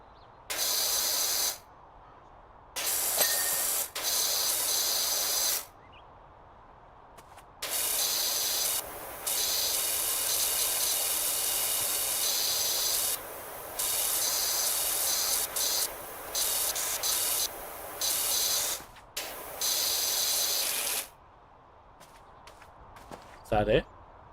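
Power washer spraying in the video game PowerWash Simulator: a loud, steady hissing jet that runs in long bursts of several seconds, stopping and restarting repeatedly with brief quiet gaps between.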